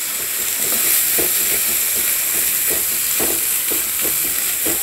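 Mutton keema masala being stirred in a pan over a low gas flame, a steady soft sizzle with repeated scraping strokes of the spoon, close and continuous with no talking.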